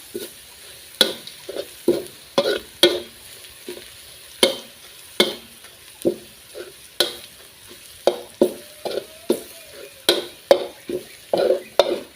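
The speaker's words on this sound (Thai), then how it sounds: "เจียวกระเทียมให้หอมก่อนนะคะ" Garlic frying in hot oil for fish fried with garlic, with a steady crackling sizzle broken by repeated sharp scraping strokes of stirring, close and fairly loud, no talking.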